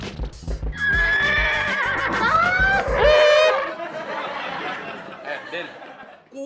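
A horse neighs in a loud, high whinny with quavering pitch, preceded by clip-clop hoofbeats and followed by fainter chatter and laughter.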